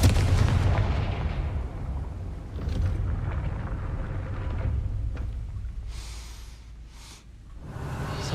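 A Confringo fire spell blasts off in Hogwarts Legacy, a loud booming burst with rumbling low end that rolls on, followed by a few brief crackling flares of fiery noise near the end.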